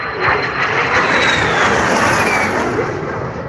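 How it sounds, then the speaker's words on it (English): A largely plywood airplane flies at the Pocono Raceway airshow, its engine giving a loud, continuous roar with a slowly shifting pitch as it passes, with no voices. "most of this airplane is plywood"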